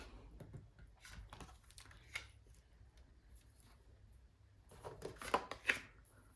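Soft papery shuffling and brisk slaps of tarot cards being laid out, several quick snaps clustering near the end, close by with no talking.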